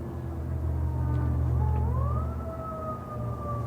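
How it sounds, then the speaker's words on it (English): A wailing emergency siren, likely from a fire engine, rises and falls in long sweeping tones over a steady low rumble of traffic, sounding moderately distant and continuous throughout. "I'm hearing the sound of the siren, the call of the sirens"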